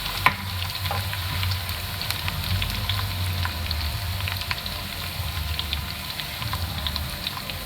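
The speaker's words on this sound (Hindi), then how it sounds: "प्याज का और ज़ीरे का तड़का एक साथ लगाएंगे" Chopped onion and cumin seeds for a tadka sizzle and crackle steadily in hot oil, a close, continuous frying hiss with scattered pops and no talk.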